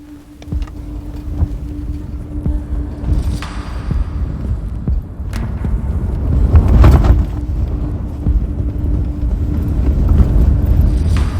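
Strong wind gusting on a freezing cold night during a road trip, a steady low roar that buffets and rumbles for the whole stretch and swells louder toward the end, with no one speaking.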